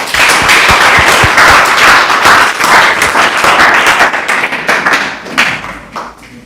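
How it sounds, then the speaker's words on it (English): Loud crowd of hands clapping at an entrepreneurship bootcamp event, a dense burst of claps that thins and tapers off toward the end. "can we give them a very loud hand clap?"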